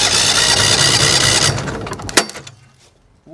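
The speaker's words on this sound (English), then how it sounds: "we're just going to use the starter motor to get our reading here. To get a compression test." The starter motor cranks a 23 HP Briggs Vanguard V-twin on a 2006 Mud Buddy surface drive during a compression test. It is a loud, steady mechanical whirring for about two seconds, then stops abruptly with a clunk and fades.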